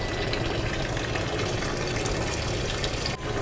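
Water running steadily into a cup inside a truck cab, a continuous close hiss and gurgle with an engine-like hum beneath, briefly dipping near the end.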